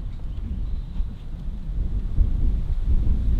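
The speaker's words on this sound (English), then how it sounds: "it's another extremely windy day" Steady, rumbling wind buffets the microphone at a skatepark with low, gusty roaring throughout, strengthening slightly toward the end; no voices.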